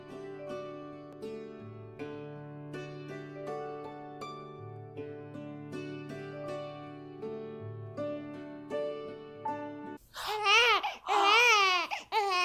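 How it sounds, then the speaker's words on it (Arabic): A baby bursts into loud wailing cries near the end. The crying comes after a long stretch of plucked, tinkly melody and rises in several strained, wavering sobs. "إنه صوت طفل يبكي"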